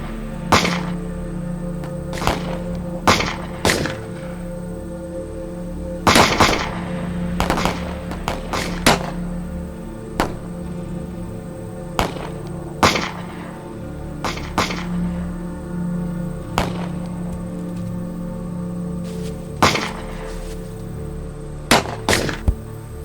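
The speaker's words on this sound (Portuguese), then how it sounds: "Continuem atirando." Gunshots in a western film shootout ring out as sharp, loud cracks, some single and some in quick clusters, spread irregularly over a steady background drone.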